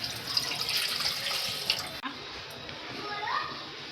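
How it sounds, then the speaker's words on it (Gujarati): Water runs from a tap into a metal pot set up for steaming dhokla, a bright splashing rush that cuts off halfway and leaves faint dripping and quiet background sounds. "હવે આપણે એમાં પાણી નાખીશું।"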